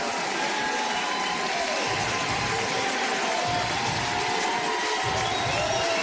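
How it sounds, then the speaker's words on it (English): Baseball crowd in Eugene roaring during the bottom of the ninth of a West Division final game, a dense, sustained wall of cheering that holds steady for the whole stretch. "Crowd here in Eugene is going absolutely bananas"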